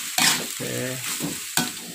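Food with soy sauce is stirred in a pan, giving a couple of sharp scraping strokes over a low, steady sizzle, close and fairly loud.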